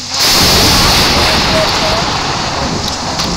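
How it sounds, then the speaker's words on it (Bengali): Rain and thunderstorm at night in the Indian Bike Driving 3D video game roar in loudly after a brief quiet start, a dense continuous wash of rain and rumbling storm with no voices. "সব গাছে রাতে বৃষ্টি হচ্ছে, ঝড় হচ্ছে"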